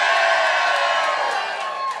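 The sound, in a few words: live podcast audience cheering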